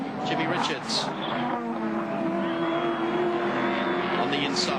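A Nissan R32 GTR and a Ford Sierra Cosworth race round a circuit, engines droning and whining as they pass, heard under continuous commentary from a race announcer.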